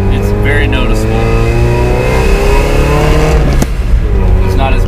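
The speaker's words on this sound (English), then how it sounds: "There's not as much lag on the engine. It's got a lot more responsiveness in the throttle. It wants to rev easier." Mazda Miata engine with the air conditioning and power steering removed, revving loudly and steadily while driving, heard from inside the car under a person talking.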